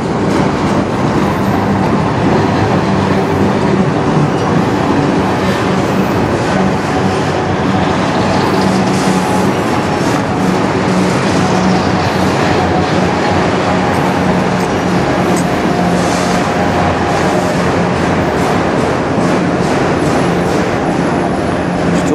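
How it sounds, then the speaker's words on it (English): A CN freight train made up entirely of auto rack cars rolls steadily past up close in Sarnia, Ontario, with a continuous loud rumble and wheel clatter that holds for the whole stretch, no voices. "This is a full auto rack train"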